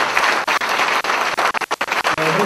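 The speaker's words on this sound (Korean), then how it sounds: "뜨거운 환영의 박수 받으시면 감사하겠습니다" Audience at an indoor lecture event giving a warm welcoming round of applause for a guest speaker, dense close clapping with brief gaps and a faint tone entering near the end.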